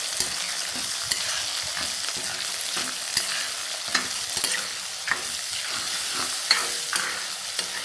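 Onions and cumin sautéing in a pan for Coimbatore-style arisi paruppu sadam, a steady close sizzle broken by repeated scraping stirs at a loose, uneven rhythm, with no talking.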